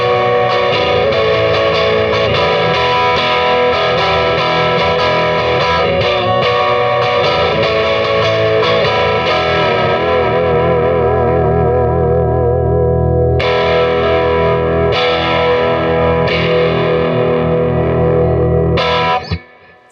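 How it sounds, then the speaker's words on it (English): Johnny Marr Jaguar electric guitar with both pickups in series driving a Tubescreamer overdrive, a thick sustained distorted wash of chords with chorus-like shimmer and reverb, loud and continuous for about twenty seconds before cutting off. "This is the middle pickup with both pickups in series."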